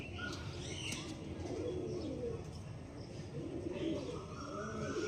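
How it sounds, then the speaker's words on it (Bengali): Andhra (Mangalagiri) pigeons coo softly and repeatedly in the background, with a few flutters and chirps over steady ambient noise. "ওটা হচ্ছে আন্ধ্রের পায়রা মঙ্গলগিরির পায়রা"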